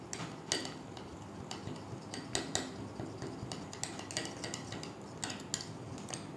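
A spoon clinks and taps against a bowl while turmeric powder and other ingredients are stirred into a face paste, producing steady close scraping with sharp, irregular ticks.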